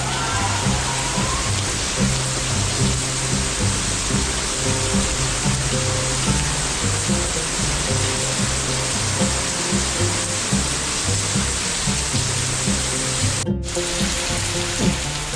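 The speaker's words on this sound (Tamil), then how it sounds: "இங்கே பார்த்தீங்கனாலே தெரியும் எவ்வளோ மழை பெய்யுதுன்ட்டு." Heavy rain pours steadily onto the Tirupati to Tirumala stone footpath, a dense, loud, continuous hiss with low rumbling underneath that lasts throughout, briefly cut once near the end, with no talking.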